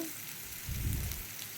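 Sea fish frying in a coconut and onion masala, a steady close sizzle that swells into a fuller, louder bubbling partway through, with no talking.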